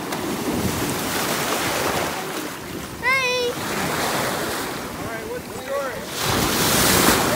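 Ocean waves wash onto a beach in a continuous surf roar, with wind buffeting the microphone and brief voices heard over it.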